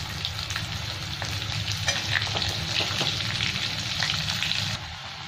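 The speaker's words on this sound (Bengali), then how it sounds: "আলুগুলো ভেজে নেবো এরকম করে লাল লাল করে একটু" Boiled potatoes, precooked with salt and turmeric, sizzle and crackle steadily in hot oil, with occasional stirring scrapes, close and continuous, for a chicken biryani.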